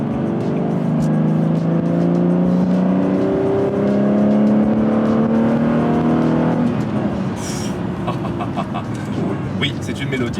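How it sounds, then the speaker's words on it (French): Aston Martin Vanquish S 2005 with its V12 engine revving loudly and close, rising in pitch through the gears before easing off, with faint voices underneath. "tout commence par le moteur, V12 C-List, 527 chevaux et une mélodie."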